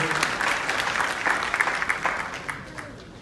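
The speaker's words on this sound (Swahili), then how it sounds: "Makofi kwake tafadhali" Audience applause at an investment conference in Sweden, a steady wash of many hands clapping at moderate distance, tapering off toward the end with no talk over it.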